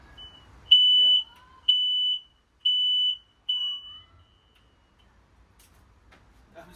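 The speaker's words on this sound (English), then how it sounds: "The alarm will go off, maybe." Four loud, high-pitched electronic beeps from a smoke alarm, each held for about half a second at a steady one-second interval, followed by near silence in a workshop.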